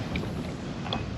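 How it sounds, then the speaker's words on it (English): Strong wind buffeting a fishing kayak out on a bay near Pensacola, a steady broadband rush with faint splashes and creaks, no speech. "This wind has definitely picked up."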